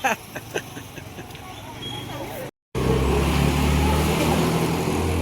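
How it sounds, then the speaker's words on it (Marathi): A tempo carrying a Ganpati idol drives along, its engine starting as a low hum and then running as a loud, steady rumble after a brief break, with people talking over it. "आता आमच्या भावाचा टेम्पो घेऊन चाललो आम्ही"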